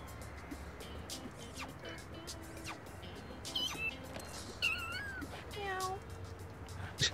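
Cat meowing in the video game No More Heroes: a run of high, sliding meows in the second half, moderately loud over busy game background noise and clatter.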